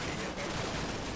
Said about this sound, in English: Is that a mortar round landing on that building, or is it something else?